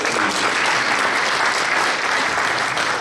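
A church congregation at a thanksgiving worship service in Seoul claps in loud, sustained, even applause, filling the space without pause.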